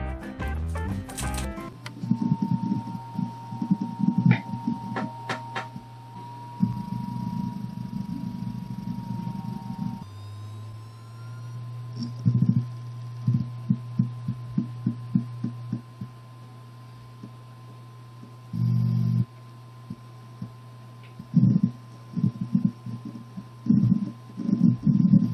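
A Western Digital My Book external hard drive runs with a steady low hum, broken by bursts of soft, irregular clicking and ticking from its mechanism, close and moderately quiet.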